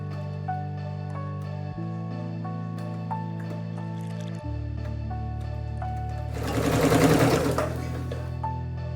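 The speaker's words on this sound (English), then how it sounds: "Fold in half lengthwise and stitch with a very narrow 6mm or 1/4 of an inch seam allowance." Sewing machine stitching a very narrow 1/4-inch seam along a folded fabric tie for a peasant blouse, a steady close motor hum with stop-start pauses and a louder rattling burst near the end.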